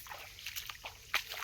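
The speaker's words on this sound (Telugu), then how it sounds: "ఇక ఇట్లా చిమ్ముతుంది. ఈ జైన డ్రిప్పు ప్రతి చెట్టుకి ఇట్లా పడుతుంది." Jain drip irrigation emitters release water at each tree in an oil palm plantation, making a faint, close trickle with small irregular splashes and spatters.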